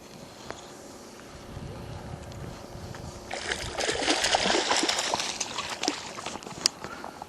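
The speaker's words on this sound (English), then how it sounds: "Quickly gonna get this fish out of the water to have a look at him." A catfish is hauled up out of the water while fishing at Boulder City, its splashing and dribbling water swelling louder in the second half over a steady hiss of wind against the microphone.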